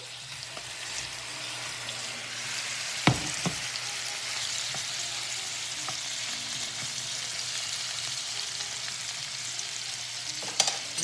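Half-cooked pumpkin sizzles steadily in melted butter in a pan, a soft, even frying hiss with a couple of sharp utensil clinks, heard alone without any voices.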